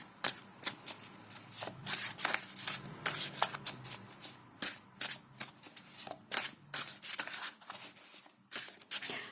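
Tarot cards being shuffled up close, a series of quick riffling bursts and soft slaps in an uneven rhythm, with no speech.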